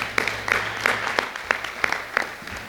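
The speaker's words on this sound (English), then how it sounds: "give yourselves a big round of applause" A room of people at a golf club town hall clap for themselves, a loose pattern of claps that sounds fairly small and close rather than like a big crowd.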